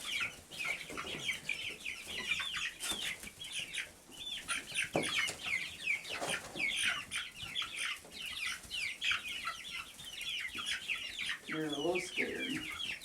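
Chickens and roosters clucking busily while eating cicadas, a dense near chorus of repeated clucks and short squawks with occasional human voices underneath.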